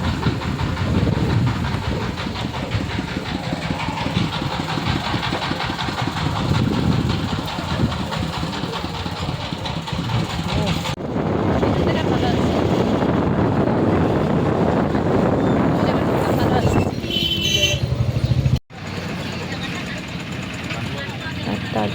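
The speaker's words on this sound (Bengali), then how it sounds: "তো গাইজ এই যে এখন নৌকার উপরে উঠে দাঁড়িয়েছি।" A boat engine drones steadily as the boat crosses the Ganges, loud and close with wind buffeting the microphone, before a sudden cut leaves a quieter stretch of the same running noise.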